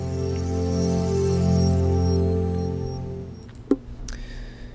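Ubuntu 4.10 Warty Warthog logout sound, a sustained, swelling tonal chord that fades out, followed by a couple of faint clicks, heard alone on a quiet desktop without speech.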